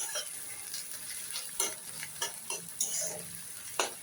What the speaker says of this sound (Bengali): আমি পেঁয়াজটা বেশি ভাজবো না, একটু কাঁচা কাঁচা রাখবো